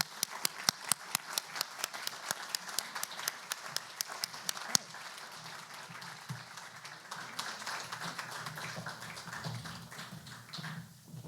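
A forum audience applauds military leaders, several Marine Corps lieutenant generals among them, with sharp distinct claps at first that blur into a steady, dense roll of clapping lasting about eleven seconds.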